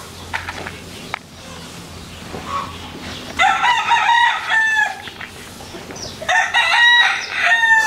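A rooster crows loudly and close, two long drawn-out calls with clucking fowl around, on a rural farm plot where corn is being planted.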